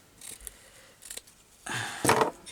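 Scissors cutting craft material while making flowers, a few soft snips and crisp slicing sounds close by, spaced irregularly and ending in a louder rustling cut.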